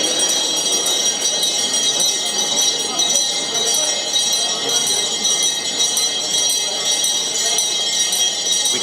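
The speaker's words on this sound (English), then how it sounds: "I think that bell signifies the start of the auction." A bell rings continuously to open the tuna auction at Tsukiji fish market in Tokyo, steady and bright above a dense hall murmur of crowd noise and voices.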